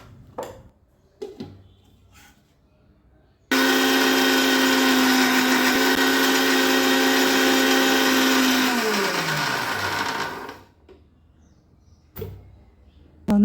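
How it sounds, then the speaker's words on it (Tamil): A mixer grinder blending cream for ghee whirs loudly for about seven seconds, its motor pitch sliding down as it winds to a stop, with quiet handling noises before and after. "நான் மிக்ஸியில் அடிச்சுக்கிறேன்."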